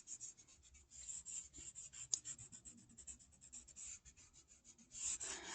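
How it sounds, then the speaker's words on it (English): Graphite pencil pressed hard on paper while shading a drawing, a quiet, steady scratchy rubbing made of many short back-and-forth strokes, close and alone. "you're going to press pretty hard with your pencil at this point because we want the horizon line"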